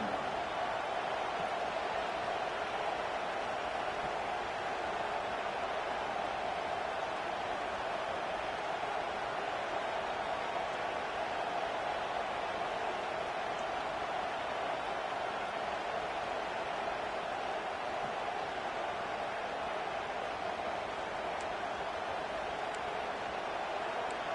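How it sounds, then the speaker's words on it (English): A steady, dense roar of a large college football stadium crowd fills the whole stretch, loud and continuous without clear peaks. "Listen to the crowd energy here in the early going."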